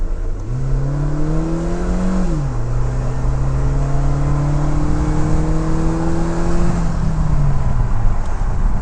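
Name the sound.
car engine revving while accelerating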